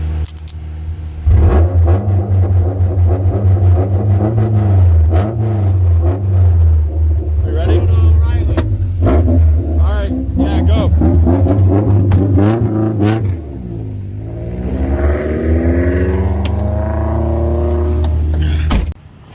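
A 1996 Saturn SL1 engine revs hard and accelerates, a loud close-up drone that rises and falls in pitch through repeated gear pulls, easing briefly before surging again, with people talking over it.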